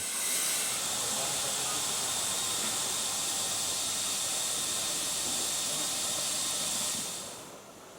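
Steam locomotives standing in steam at a roundhouse give off a loud, continuous hiss that holds steady for several seconds, then fades near the end; nobody speaks.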